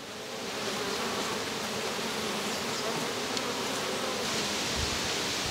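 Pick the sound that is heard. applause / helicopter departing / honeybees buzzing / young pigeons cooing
honeybees buzzing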